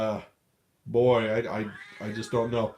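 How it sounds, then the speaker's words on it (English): An upset cat meows nearby, its cry mixed with a person talking close to the microphone. "That's my cat, and she's upset"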